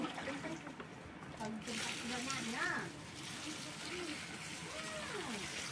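Water is splashed and poured over a freshly caught shrimp haul covered in mud in Kalimantan, giving a steady close wash of trickling and splattering, while someone talks over it.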